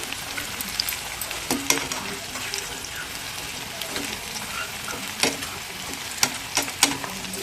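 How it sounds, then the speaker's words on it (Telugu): Chicken pakoda pieces deep-frying in hot oil hiss steadily up close, punctuated by sharp crackling pops and spatters that come more often near the end, with no talking. "ఒక్కొక్కటి అయితే కొంచెం పేలుతాయండి, కానీ కొంచెం జాగ్రత్తగా ఉండండి."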